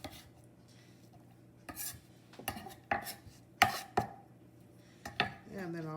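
Onions chopped with a knife on a board in a home kitchen, a handful of sharp, irregular knocks over a quiet background, close and fairly soft, no talk.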